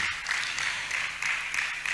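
Sustained applause from a university debate audience greeting a contestant, a dense steady wash of many hands clapping throughout.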